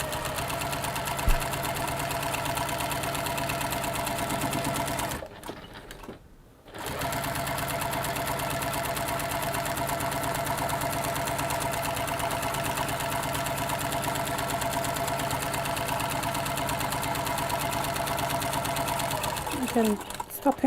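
A sewing machine with a walking foot stitches fabric in a fast, steady mechanical whirr of rapid needle strokes, pausing briefly once before resuming, close and loud.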